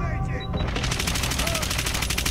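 Rapid automatic gunfire in Call of Duty rattles off in a fast, regular burst of shots, following a brief mix of game sounds, loud and continuous to the end.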